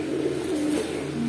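A single black Babra pigeon of an old breed, a male, gives a soft, low cooing call. It is faint against a steady background hiss.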